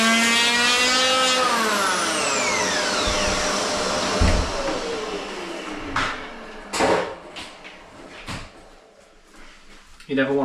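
A Hoover vacuum cleaner used for cleanup during door fitting gives a loud motor whine that slowly winds down in pitch. Scattered knocks and clunks follow as things are handled nearby.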